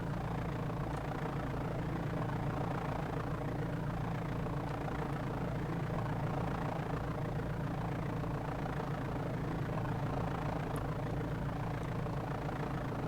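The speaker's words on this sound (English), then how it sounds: "Boy, that engine sounds like it's going to die." A simulated airplane engine in Flight Simulator 5.1 runs rough with carb heat on, giving a low, steady droning hum with slight unevenness, faint and continuous with no talk.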